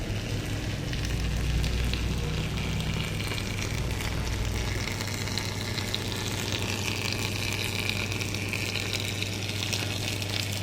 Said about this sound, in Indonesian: merupakan air yang mengalir yang dialirkan oleh pipa tertentu